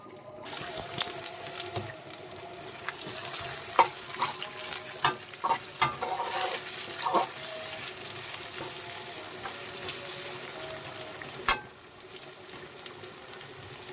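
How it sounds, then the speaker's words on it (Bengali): Onions fry in a pan while cooking a foli fish curry, with a continuous close sizzle broken by occasional clicks and scrapes of stirring, and no talking. "পেঁয়াজগুলোকে ভেজে নেব"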